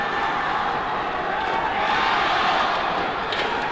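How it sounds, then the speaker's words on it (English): Badminton crowd at the 2007 Singapore Open men's singles final between Chen Yu and Ponsana, a steady dense roar of spectators with chanting for Chen Yu blended into continuous broadband noise. "Chayo, you can hear from the crowd for Chen Yu"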